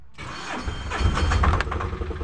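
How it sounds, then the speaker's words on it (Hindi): A Tata Ace Zip BS4 mini truck engine cranked on its self starter, a brief whir giving way to the engine catching and settling into a steady mid-pitched idle, close and loud, with no talking. "अभी गाड़ी को करेंगे स्टार्ट और वो भी देखेंगे आरपीएम उसमें बता रहा है कि नहीं बता रहा है ठीक है तो मारते हैं सेल्फ"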